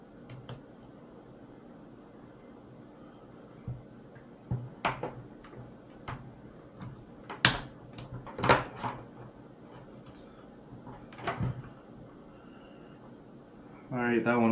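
Plastic body parts of an Arrma Gorgon RC car click and snap together during assembly, a scattering of sharp, close clicks and taps over a quiet room hum, with a few louder snaps near the middle.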